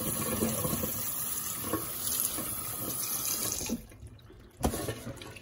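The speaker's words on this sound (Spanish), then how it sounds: "yo estoy usando agua de la llave" Tap water runs steadily into a kitchen sink as cooked pasta is rinsed to stop it cooking, a continuous close splashing that cuts off near the end before a brief clatter.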